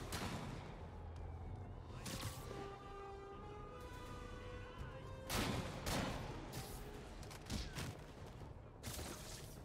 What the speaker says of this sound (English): Oh, I forgot there's guys that just sit on roofs and shoot at me now.